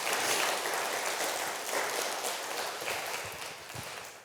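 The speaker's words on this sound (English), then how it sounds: "join me in a big round of applause for Gillian for amazing work" A lecture audience at an academic event on AI applauds, a soft, steady wash of clapping heard from a distance that fades slowly over a few seconds.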